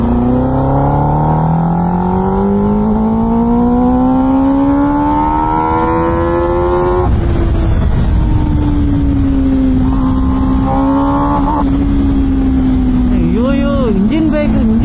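A Yamaha R1 1000cc superbike with a loud exhaust, its engine note climbing steadily under acceleration, then dropping and wavering as it engine brakes, very close and loud over constant wind rush.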